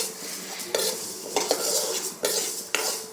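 Mung lentils fry gently in a pan over a low flame while a spoon stirs with repeated sharp scrapes and clinks against the metal, set over a soft, steady sizzle, close up and without speech.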